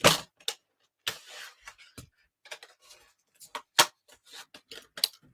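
A die-cutting machine cuts a paper shape for stamped cardmaking, giving a close series of irregular dry clicks, crunches and short scraping bursts, no talk.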